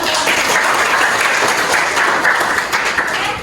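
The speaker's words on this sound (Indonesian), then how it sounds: "Baik, tepuk tangan" Classroom applause after a student group presentation, a brisk burst of many hands clapping together, fairly close and loud, holding steady before easing slightly at the end.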